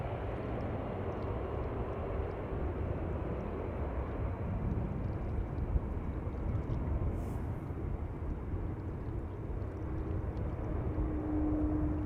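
An airliner landing on the Polderbaan runway 18R at Amsterdam Schiphol roars with reverse thrust, a broad, steady rumbling engine wash heard from a distance that holds constant throughout, with no talk.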